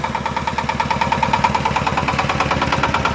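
Single-cylinder belt-driven Shifeng 244 tractor engine running steadily nearby, a loud regular thumping chug with a ringing mechanical rattle over it.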